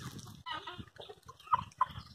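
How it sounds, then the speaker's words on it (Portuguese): Helmeted guineafowl calling among backyard chickens, a run of harsh, rhythmic cackling notes with two sharper peaks near the end, fairly close. "A galinha da Angola, como fica gritando,"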